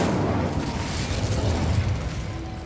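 Incendio fire spell cast in a Hogwarts wizarding video game, a loud, continuous roaring blast of flame that fills the whole moment with dense, rumbling noise.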